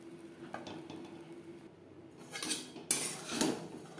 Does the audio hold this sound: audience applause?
no